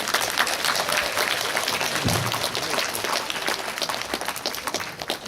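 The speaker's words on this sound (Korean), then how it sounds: "여러분들 큰 박수 주시면 함께 자리해 주시겠습니다. 박수 부탁드립니다." Audience applause at a Korean film screening Q&A for Marionette, welcoming the actors and director to the stage; dense, steady clapping from a crowded hall runs throughout with no pause.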